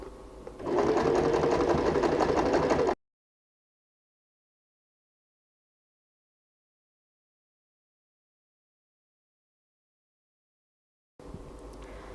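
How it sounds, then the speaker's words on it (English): A sewing machine stitches an oven towel in a steady, close whirring run of about two seconds, then falls silent for a long stretch before a quieter mechanical hum returns near the end. "and then I start sewing"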